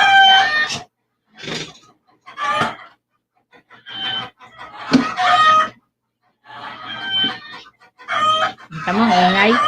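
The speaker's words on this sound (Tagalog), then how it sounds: "ingay ng mga manok namin" Close, loud bursts from farmyard chickens, clucks and cackles with a rooster crowing among them, arrive in irregular clusters separated by brief silences.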